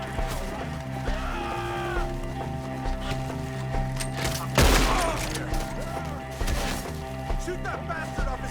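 Gunfire rings out amid a tense Red Dead Redemption 2 shootout among trees, a loud crack standing out over constant music and scattered shots, while voices shout in the background.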